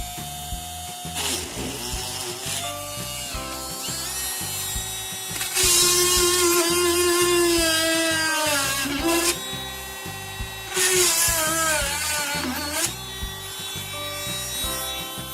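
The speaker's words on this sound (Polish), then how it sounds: "za pomocą multiszlifierki wiercę otwory" A rotary multi-tool drills screw holes in a small wooden board, making a loud, continuous motor whine whose pitch rises and dips as it bites into the wood, heard close and without speech.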